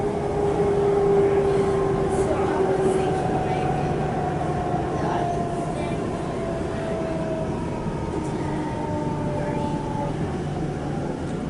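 A Melbourne high capacity metro train pulls into Carnegie station, its steady rumble and whining motor tones gliding downward as it slows, heard from on board with a constant loud wash of rail noise throughout.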